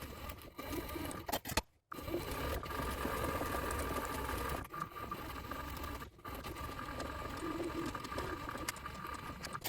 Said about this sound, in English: I'll see you over at the sewing machine.